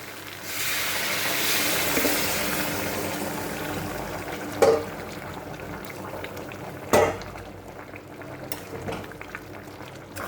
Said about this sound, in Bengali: এখন আমি গরম জল করে রেখেছিলাম, সেই গরম জলটা আমি দিয়ে দেবো এখন।